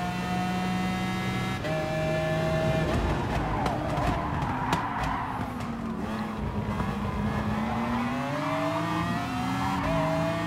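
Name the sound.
race car engine in a video game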